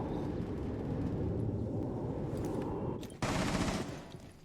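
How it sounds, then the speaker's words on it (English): Dense, rapid bursts of gunfire rattle continuously, rumbling and crackling like automatic weapons in a Rainbow Six Siege esports match, with a brief pause before another burst. "Farmer Colin hears the gunshots from Mozzie"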